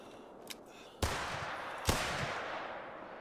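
Two loud, sharp rifle shots from a .300 Magnum in the hunting game TheHunter: Call of the Wild, about a second apart, each leaving a long rolling echo that fades slowly, with a faint click before the first.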